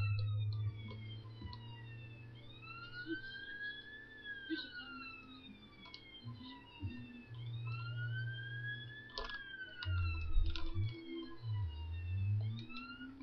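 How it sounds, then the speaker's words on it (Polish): A police siren in a racing video game wails in repeated rising and falling sweeps throughout, steady and fairly loud over a low engine drone and game noise. "ta syrena mnie dobija"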